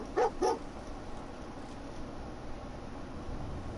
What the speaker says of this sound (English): Dog meat's probably found an enemy